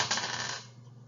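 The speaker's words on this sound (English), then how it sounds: "I'm going to roll my dice." A die is rolled on a tabletop during a children's math counting activity, giving a brief clattering rattle that fades quickly, with no voices.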